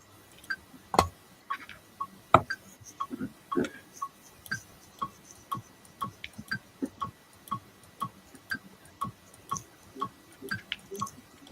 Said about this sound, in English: It sounds like a dripping tap, doesn't it?